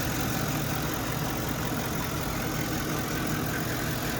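A steady, dense engine idle drones on without a break, a constant rumbling hum with no other sounds standing out.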